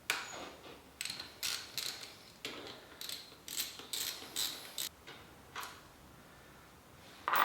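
Brake caliper mounting bolts being loosened and removed from a Harley-Davidson Sportster, a series of short ratcheting mechanical bursts close by with brief pauses, ending in a sharper metallic clatter; no talk.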